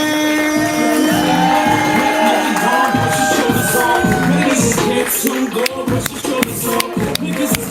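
A crowd at a live poetry open mic cheers, whoops and shouts for a poet, loud sustained hollering and whistles with clapping building toward the end, near and energetic.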